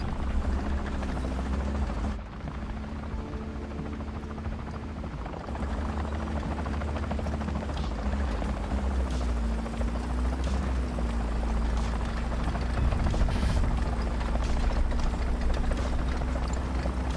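Helicopter flying in the War Thunder video game, a steady low rotor drone with a continuous whir that holds throughout, fairly loud, with no speech over it.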